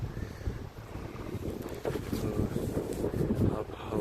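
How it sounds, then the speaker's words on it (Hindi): Wind blows steadily on a mountain trek in the Himalayas near Kamru Nag, a continuous rushing buffet against the microphone that grows stronger partway through, with no speech over it. "आप हवा सुन सकते हैं कितनी प्यारी चल रही है।"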